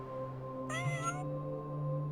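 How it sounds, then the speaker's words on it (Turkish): A ginger tabby cat gives a single clear meow in the middle, close and distinct, over a steady low background hum. "Sarman kedi etrafına bakınıp miyavlamış."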